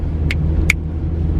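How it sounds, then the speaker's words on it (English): A struggling car engine rumbles low and steady inside the cabin, a continuous droning hum with two brief sharp clicks or taps rising over it. "my car literally sounds like it's about to pass out"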